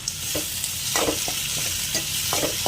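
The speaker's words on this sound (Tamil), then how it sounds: "எல்லாத்தையுமே நல்லா வதக்கலாம்" Curry leaves and peanuts sautéing in hot oil with onion and tomato for garlic pepper rice: a bright continuous sizzle broken by irregular scraping strokes of a spatula in the pan, alone without speech.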